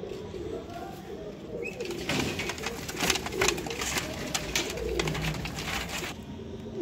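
Teddy pigeons on a Sialkot rooftop coo in low, repeated throaty calls that carry on steadily and close by, with a brighter flutter or scuffle in the middle.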